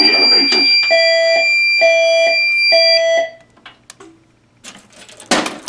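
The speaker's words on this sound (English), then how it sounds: "The fire alarm has been activated in the building." A building fire alarm sounds three loud, steady tonal blasts with short gaps in a temporal pattern during a system test, then stops, leaving quieter room noise and a brief burst of sound near the end.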